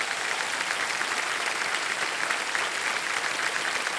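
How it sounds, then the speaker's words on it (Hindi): Studio audience on a TV quiz show breaking into steady, sustained applause that fills the room evenly throughout, with no voices rising above the clapping. "ताली बज जाए इनके लिए।"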